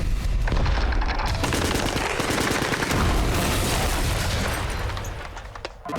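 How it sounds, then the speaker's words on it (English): An M60 machine gun fires at a line of gunpowder, setting off a pile of ammunition. Loud, dense, continuous bursts of gunfire and booming blasts run for several seconds. "we actually proved you can shoot a line of gunpowder with an M60, ignite it, and blow up a pile of ammunition"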